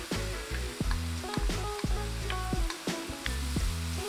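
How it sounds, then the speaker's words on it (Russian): Constant sizzling of beef and seaweed frying in a pan, with scraping and clinking as it is stirred at irregular intervals. "Жарим так 3 минуты, регулярно помешивая."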